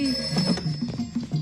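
A telephone rings in short repeated trills, a rapid bell-like chirping that fills the brief moment, close and fairly loud with no talk over it.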